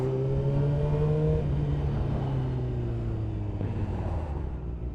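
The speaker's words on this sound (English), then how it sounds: "Oh man, this traffic's not fun." Steady motorcycle engine drone from a CBR 600 riding through road traffic, with falling engine tones as the bike eases off, loud and continuous close to the rider, wind rush underneath.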